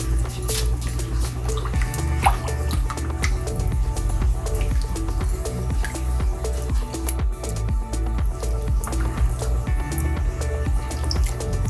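A spoon stirs beef soup in a pot, giving close, continuous wet sloshing and liquid churning with soft knocks against the pot in a steady rhythm.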